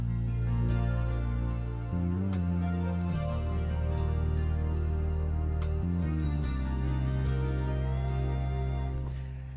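A keyboard plays a slow, smooth love ballad style accompaniment with sustained chords, a soft steady beat and bass, continuous and even.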